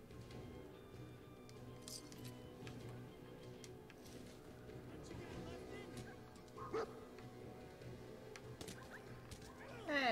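A dog gives short yips and whimpering cries amid a noisy outdoor scene with people talking, a sharper yelp rising near the end.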